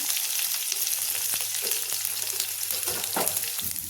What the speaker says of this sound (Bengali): এই তেলেই পেঁয়াজ ভেজে নেবো আর কাঁচা লঙ্কা দিয়ে দিচ্ছি